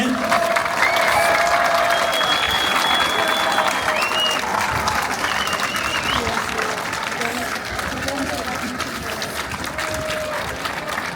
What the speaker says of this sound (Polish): państwa kibiców proszę za chwileczkę wielkie brawa